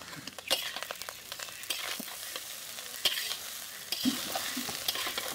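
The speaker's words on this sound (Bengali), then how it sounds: "এখন ভালো করে মিশিয়ে নেব।" Egg chowmein with vinegar, salt and tomato sauce being stirred in a frying pan, repeated scraping strokes over a constant sizzle, close and fairly quiet, no voices.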